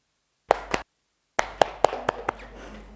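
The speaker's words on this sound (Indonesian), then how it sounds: "Beri tepuk tangan dulu kepada" Students in a classroom clap their hands, two sharp claps first, then after a short pause a looser burst of several uneven claps fading out.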